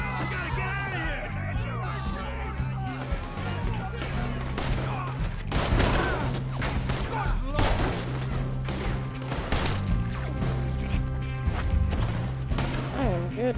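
Repeated gunshots ring out in a video game shootout as a man is targeted, dense volleys of fire and crashes overlapping with steady music and shouted voices throughout.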